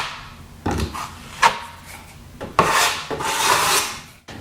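Sanding a plaster wall in an old house's bathroom renovation: short scraping strokes in uneven bursts, close and moderately loud, with brief pauses between passes and no talk.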